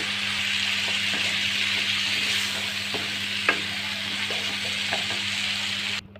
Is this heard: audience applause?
no